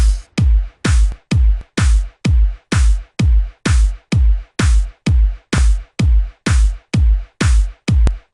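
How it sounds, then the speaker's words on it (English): A reverse crash cymbal effect in an FL Studio beat swells up repeatedly, about sixteen rising whooshes each ending in an abrupt cutoff over a punchy low thump, in a steady loud loop. "Let's put this rev crash."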